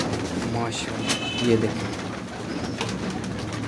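A Teddy breeder pigeon, a female, coos softly in a loft, a couple of low murmuring calls under someone talking close by.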